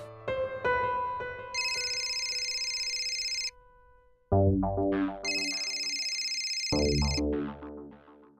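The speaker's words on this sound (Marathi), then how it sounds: "काय ग आशू, कशाला सतत फोन करत होतीस?" A telephone rings in repeated bursts of bright electronic trills separated by short pauses, loud and close, with musical tones beneath.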